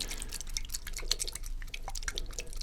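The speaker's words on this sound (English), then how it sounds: "so nice as a little bit of water in a spray bottle being sprayed in your ear there" Fine, faint hissing bursts of water from a spray bottle sound close to the microphone in an ASMR setting, arriving as a run of short, crisp spritzes.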